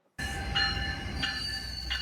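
A train rumbles past close by with steady rolling noise and sharp metallic squeals from the wheels recurring every half second or so.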